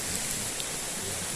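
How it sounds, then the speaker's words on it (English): Steady rain falling on a hiking route in the Shropshire Hills, a dense, even hiss of droplets close around with no other sounds breaking through. "It's actually not raining as much as it was."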